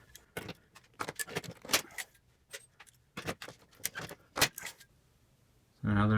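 A hand riveter sets pop rivets on a camper trailer frame, giving a run of sharp metallic clicks and clacks in uneven bursts, followed by a short louder burst at the end.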